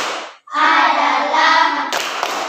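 Group clapping in an Indonesian 'tepuk senyum' clap chant, with a crowd of voices chanting together and then a short burst of sharp hand claps near the end.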